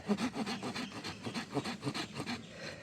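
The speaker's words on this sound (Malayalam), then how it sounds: "നമ്മൾ ഈ വലിയ കമ്പിനെ കട്ട് ചെയ്തെടുക്കാൻ പോവാണ്" Hand sawing through a large lemon tree branch, with a steady run of rasping back-and-forth strokes, close and fairly loud, with no talk.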